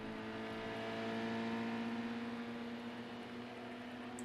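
Race cars in a racing video game, a steady whining engine hum with a strong sustained tone, constant and moderately loud, no talk.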